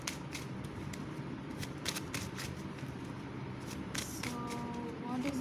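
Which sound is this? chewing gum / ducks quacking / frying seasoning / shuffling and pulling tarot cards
shuffling and pulling tarot cards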